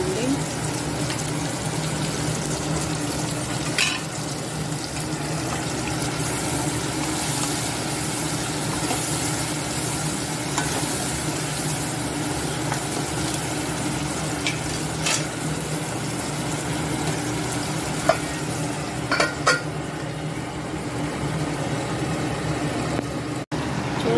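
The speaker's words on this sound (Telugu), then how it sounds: "కూర మగ్గుతుంది టమాటాలు అన్ని ఫ్రై చేస్తున్నానండి" Tomatoes, potatoes and paneer cooking down in a pan for aloo paneer curry, a low continuous sizzle and bubbling with occasional clinks of a spoon, steady and fairly close throughout.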